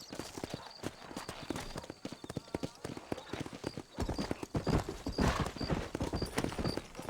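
Horses' hooves clip-clop steadily on a dusty town road in the Western game Red Dead Redemption, with an occasional whinny, while someone talks over the hoofbeats throughout.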